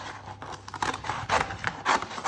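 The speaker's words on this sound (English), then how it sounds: "I think this one will be relatively easy to cut out with scissors." Scissors cutting a paper panel in a long, straight line, heard close up as a series of crisp snipping and rustling strokes in a steady rhythm, with no voices.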